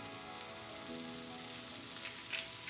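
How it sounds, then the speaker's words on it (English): Sweet corn fries in butter in a frying pan over medium heat, giving a steady, even sizzle that holds close and fairly quiet throughout with no talking. "Simply fry for a couple of minutes until the sweet corn has taken on the butter."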